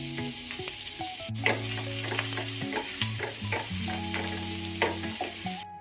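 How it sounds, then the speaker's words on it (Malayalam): Sliced onions sizzle in hot oil in a pan while being stirred, for a Kerala-style chicken stew. A continuous close frying hiss carries soft stirring clicks and scrapes, and a steady tonal hum sits underneath. No one speaks. "അതിൽ തന്നെ നമുക്ക് കുറച്ച് സവാള ഒന്ന് മൂപ്പിച്ചെടുക്കാം"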